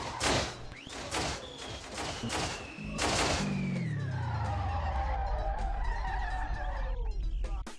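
A 1500 HP street drag racer in Street Legal Racing crashes at top speed, with loud thuds and impacts, then tires screech and the engine winds down in a long skid.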